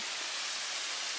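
Waterfall near Sydney heard as a steady, even, broadband rushing hiss with no breaks, fairly faint and without voices.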